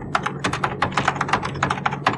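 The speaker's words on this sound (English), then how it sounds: "So keep on typing and watch what the computer does." Rapid typing on an Amiga 1000 computer keyboard, close-up clicky keystrokes in a quick irregular rhythm, heard alone without talking.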